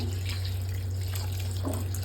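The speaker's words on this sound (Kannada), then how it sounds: "ಪಾತ್ರೆಗೆ ಶಾವಿಗೆನ ಬಸ್ಕೊಂಡಾದ್ಮೇಲೆ ಇದಕ್ಕೆ ತಣ್ಣೀರು ಆ್ಯಡ್ ಮಾಡ್ತಾ ಇದ್ದೀನಿ" Cold tap water is poured over drained rice vermicelli in a colander-type vessel, a steady continuous splashing rush that holds evenly throughout at close range, with no talking.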